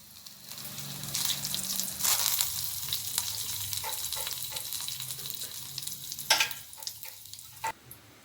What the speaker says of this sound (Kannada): ಈಗ ಎಣ್ಣೆ ಕಾಯ್ದೈತ್ರಿ ಸಾಸಿವೆ ಹಾಕೋತೀನಿ ನೋಡ್ರಿ ಚಟಪಟ ಸಿಡಿಬೇಕದ